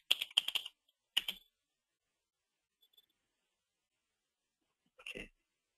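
Bursts of typing on a computer keyboard, close and clear, a quick cluster of keystrokes at the start, a short second burst, then silence before one last brief flurry.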